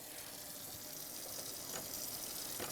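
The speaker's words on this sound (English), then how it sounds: "we are going to turn on the water" Tap water running into a sink for hand washing, a steady, soft hiss and splash continuing evenly throughout, fairly faint and without talk.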